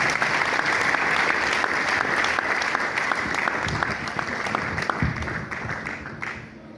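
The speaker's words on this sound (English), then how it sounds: "A round of applause for our guests." An audience at an academic guest lecture applauds, dense clapping from many hands heard fairly close and continuing steadily before tapering off at the end.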